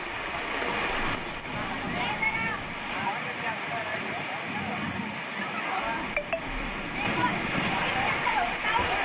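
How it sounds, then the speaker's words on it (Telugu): Heavy rain pouring down steadily in Vemulawada, a dense continuous hiss of falling water and runoff throughout, with a person talking over it. "తెలంగాణ రాష్ట్ర వ్యాప్తంగా కూడా ఒక్కసారిగా భారీ వర్షం అయితే కురుస్తుంది"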